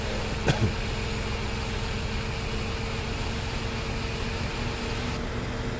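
Tractor engine in Farming Simulator 17, a steady droning hum that holds at an even level throughout, with a brief click near the start and no voice.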